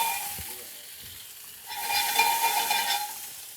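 Fish sautéing and stir-frying in a pan produces a soft, steady hiss that swells noticeably louder partway through, with no voices.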